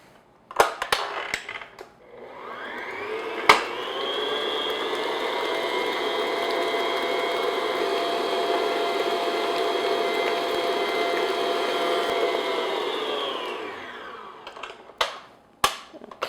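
Electric mixer running at medium speed beating eggs into a lemon cake batter, a steady whirring motor drone lasting about ten seconds with clicks and knocks before and after.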